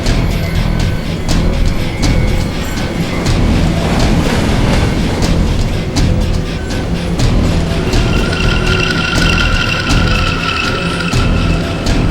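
A passenger train runs steadily on its rails, a continuous loud rumble with rhythmic clickety-clack and rattling carriage noise throughout, no voices.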